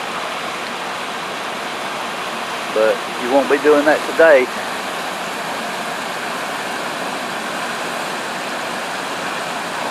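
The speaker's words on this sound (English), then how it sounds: "Get down here where you can see how hard the water's running." Floodwater rushes hard down a swollen creek in Floyd County, Georgia. A steady, broad roar runs the whole way through, and someone speaks briefly over it.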